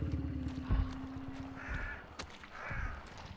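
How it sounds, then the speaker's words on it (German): Ravens caw in the video game Hunt: Showdown, a few harsh calls close by over a low outdoor ambience. "Nicht erschrecken, Raben."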